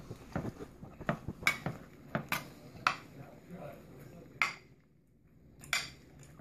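Rice Krispies treat mixture with chopped almonds spooned from a pot into a pan, a string of sharp clinks and scrapes of a metal spoon on cookware, irregular and close, with quieter rustling in between.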